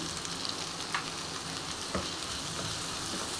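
Onion, garlic and tomato frying in a pan for a cluster bean dish, a steady close sizzle with a couple of brief stirring scrapes and no talk.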